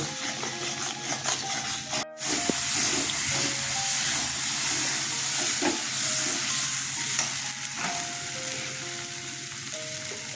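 Sarputi fish being sautéed with turmeric and salt in a pan: continuous close sizzling and hissing oil, with a brief sharp clatter early on and scattered scrapes from stirring.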